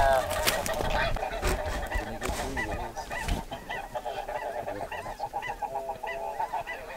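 A dense flock of migrating snow geese honks loudly and continuously in spring, many overlapping calls near and far, with some wind noise underneath.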